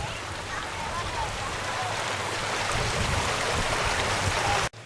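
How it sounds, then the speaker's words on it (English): Water rushes steadily over a tiny weir near Ingleborough Cave in the Yorkshire Dales, a close, continuous broadband roar that cuts off abruptly at the end. "we've got like a tiny little weir there, look"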